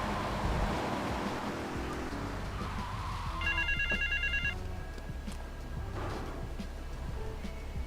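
A payphone rings in the game GTA Liberty City Stories, a bright electronic trill in one burst lasting about a second, over steady rain-like game ambience and low background sound.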